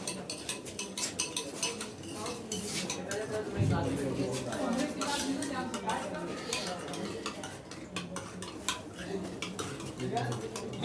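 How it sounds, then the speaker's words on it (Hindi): A spoon stirs salt into distilled water in a container: rapid, continuous metallic clinks and scraping against the sides, close and fairly loud, with a voice talking over it. "फिर इसमें 1 चम्मच साल्ट को डालकर पहले इसको खूब अच्छे से इस डिस्टिल्ड वाटर के अंदर इसका घोल बना लिया"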